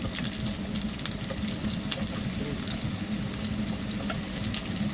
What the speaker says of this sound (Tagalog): nagisa na natin ang ating bawang, sibuyas, at saka ginger